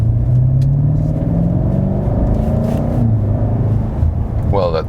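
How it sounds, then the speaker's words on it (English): A 2018 BMW M5 F90 accelerating under throttle, its engine note rising steadily in pitch with a brief dip between gears, a loud continuous drone close to the cabin. "Now let's apply some throttle."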